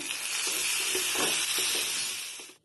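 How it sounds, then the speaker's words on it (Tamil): Cashews frying in hot ghee in a kadai while making sugarcane juice payasam, a loud, dense, continuous sizzle heard up close that cuts off abruptly at the end. "வடைச்சட்டியில் நெய் ஊற்றிருக்கேன் நெய் காஞ்சிட்டு முந்திரி பருப்பை போடுதேன்"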